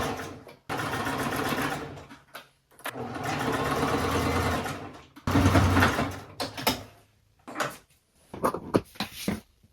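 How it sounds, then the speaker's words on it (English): A sewing machine stitches scrap fabric in several bursts of rapid, buzzing stitching, each lasting a second or two, separated by brief pauses and small clicks. "Now we're just going to go along with our sewing machine"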